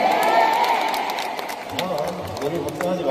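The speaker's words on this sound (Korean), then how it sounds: "많은 박수 보내주실 수 있죠?" Concert audience at a spring fan-club concert applauding and cheering, a steady dense wash of clapping with crowd shouts, loud and continuous throughout, with some voices rising near the end.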